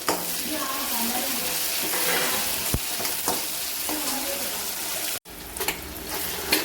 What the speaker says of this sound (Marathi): टमाटे, कोथिंबीर याला पण छान परतून घ्यायचं आहे